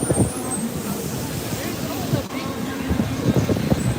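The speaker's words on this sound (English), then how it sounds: "So a lot of trains run here." Trains rumble at a main train station hub in New York City, a continuous low roar mixed with crowd babble and wind noise; people talk nearby.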